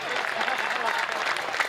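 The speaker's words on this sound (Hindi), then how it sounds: "बजाओ ताली" Dense audience applause at a Hindi comic poetry gathering, a steady wash of many hands clapping together for the whole short stretch at an even, fairly loud level.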